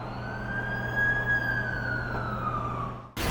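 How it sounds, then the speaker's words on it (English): An ambulance siren in The Amazing Spider-Man 2 video game, a loud wailing tone that rises and slowly falls over a low engine hum, cut off abruptly by a burst of noise at the end. "That's the ambulance I called."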